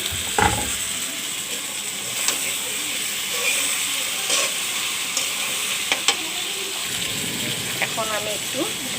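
Cut okra pieces going into a hot pan with frying tilapia, a continuous close sizzle and hiss with scraping and clinking of a utensil, a voice briefly talking over it.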